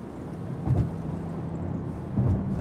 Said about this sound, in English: And there's that exhaust. How good does that sound?